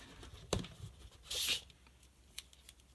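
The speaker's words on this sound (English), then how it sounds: "I just usually grab my double-sided tape and go along" Double-sided tape peeled from its backing while assembling chipboard pieces for a Graphic 45 mini suitcase pop-up book, heard as a short close ripping strip after a soft tap, then light handling clicks.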